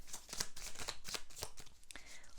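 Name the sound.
shuffling oracle cards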